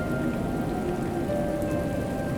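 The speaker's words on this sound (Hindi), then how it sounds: "एक रात अचानक तेज आंधी और मूसलाधार बारिश शुरू हो गई।" A heavy downpour from a cartoon story's stormy night in a village is a dense, steady roar of rain drumming on surfaces, loud and unbroken throughout, with no distinct thunderclap.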